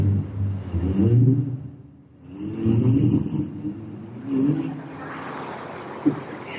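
A mimic imitates an old Fiat car engine with his voice, producing low, rumbling, sputtering bursts that swell and fade in three waves, ending in a short sharp pop.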